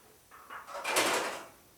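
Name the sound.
car door rubbing on rod while closing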